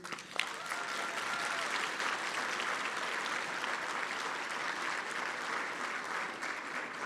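An audience at an awards ceremony gives its honorees a long, even round of applause, a steady wash of many hands clapping at moderate volume without a break.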